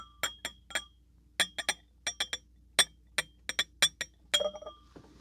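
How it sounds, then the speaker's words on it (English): A Spiegelau whiskey glass clinks sharply many times in quick irregular taps, bright and close, with a brief pour of bourbon near the end. "let's pour it into the Spiegelau whiskey glass."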